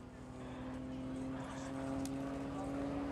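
An RAF Grob Tutor propeller aircraft flies an aerobatic display at an air festival, its engine giving a steady, droning hum that stays continuous and fairly distant. A voice talks faintly over it.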